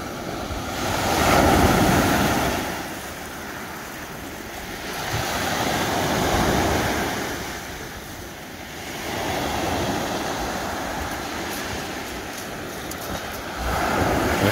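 Choppy sea waves roll onto the beach at Playa Himalaya, Sonora, surging and receding in slow swells every few seconds under constant wind noise, loud and close.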